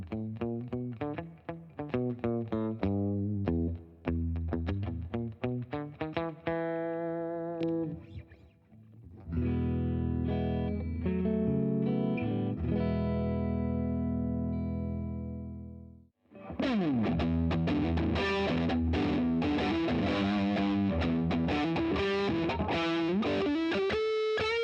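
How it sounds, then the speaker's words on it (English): An electric guitar played through a JHS Sweet Tea v2 overdrive and distortion pedal rings out in gritty strummed chords and sustained notes, loud and close, with brief pauses between passages. "This is the JHS Sweet Tea version 2. It's a super duper overdrive distortion"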